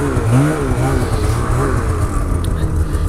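A snowmobile engine revs nearby with a rough, wavering drone that rises and falls repeatedly, steady and fairly loud throughout, while a voice talks faintly underneath.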